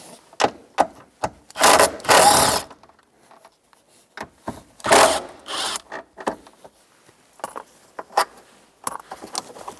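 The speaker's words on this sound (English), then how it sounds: "So now we're going to remove these 2 bolts for this bracket, 12mm socket." Two bracket bolts come off a Toyota Tacoma with a 12mm socket, heard as bursts of rapid ratchet clicking mixed with metallic clinks and rattles, close and loud, with pauses between.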